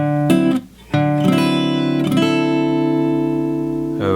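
Jazz blues lick on a solo guitar, a few plucked notes and brushy strums ringing out close and clear, with a brief gap before sustained tones that fade slowly.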